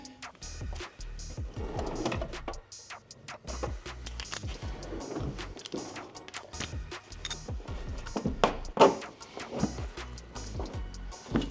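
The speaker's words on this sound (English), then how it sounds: "I'm gonna hit these with a 13 mil socket and quickly get the skid plate taken off here" Rapid ratcheting and clicking of a 13 mm socket wrench loosening skid plate bolts under a Ford F150 Tremor, in repeated short bursts with scattered metallic clanks, fairly close and with no talk.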